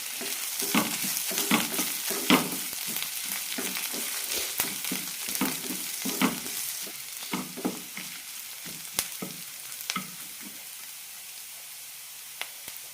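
Kashmiri chillies and a piece of ginger sizzle in a pan for a bottle gourd chutney, a steady close frying hiss broken by frequent sharp scrapes and clacks of stirring, with no voices.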